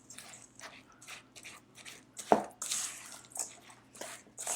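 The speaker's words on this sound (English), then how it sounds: "I'm going to break up that egg and kind of whisk it around a little bit or stir it up" Spatula stirring a wet black bean burger mixture with beaten egg, giving soft squishy, drippy smacks in an irregular rhythm, close and fairly quiet, with one sharper wet slap partway through.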